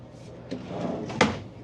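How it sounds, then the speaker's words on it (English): A storage drawer in a 2024 Airstream Flying Cloud 28RBQ travel trailer slides open with a soft rumbling glide, ending in a sharper knock as it reaches its stop, heard close up. "And then we'll have another drawer that pulls out for storage."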